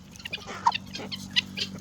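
Breeding hens on a chicken farm give soft, scattered clucks, several short calls spread irregularly over a quiet, faint background.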